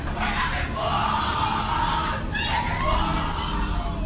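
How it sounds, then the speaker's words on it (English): Recording of a Skull and Bones initiation ceremony: a dense, continuous wash of raised voices and yelling from a group, steady and loud throughout, with no clear individual words standing out. "What you're hearing is the first recording ever made of the Skull and Bones initiation ceremony."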